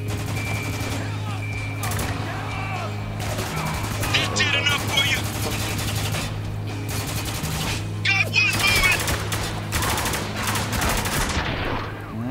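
Sustained combat gunfire in the video game Spec Ops: The Line, with repeated shots and bursts running continuously through the scene, mixed under a steady background hum and some talk.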